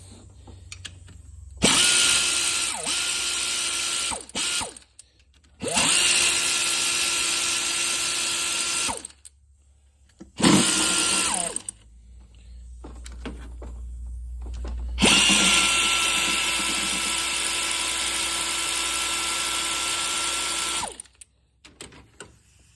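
A power tool, like a cordless drill or impact driver, loosens the timing belt bolts on a 2.5 Subaru engine. It gives four loud, close bursts of whirring with short gaps between them and no talk.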